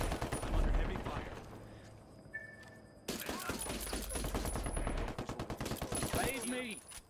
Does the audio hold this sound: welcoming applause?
no